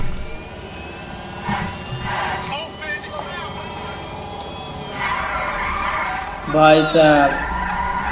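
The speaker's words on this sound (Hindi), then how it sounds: "काफी सही चल रही है मॉडिफाई गाड़ी मेरी" A modified electric car, styled like a Honda City, driving in GTA 5, with a steady engine whine and tire skids rising toward the end, under people talking.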